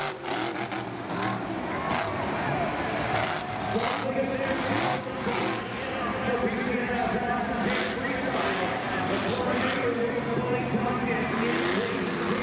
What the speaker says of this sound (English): just the sound of that truck is always fun to hear